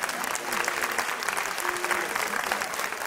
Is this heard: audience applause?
yes